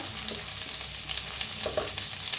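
Garlic, ginger and green chilli frying in a pan, a steady close sizzle with soft stirring scrapes running throughout, no voices.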